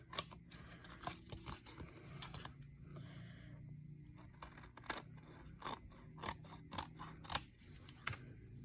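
Scissors trim strips of patterned card-making paper for a plaid Christmas card, giving a series of close, crisp snips and paper rustles in an irregular rhythm, with brief pauses between cuts in a quiet room.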